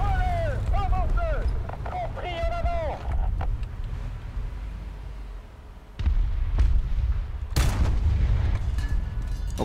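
Tank cannon fire in the War Thunder video game, heavy booms and bursts over constant engine rumble, with one loud, sharp blast near the end; someone talks over the first part.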